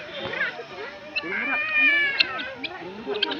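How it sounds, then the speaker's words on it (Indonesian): A peacock calls in a natural park in Takengon, Aceh, giving wailing, cat-like cries, fairly near, while people talk around it. "burung merak ternyata guys"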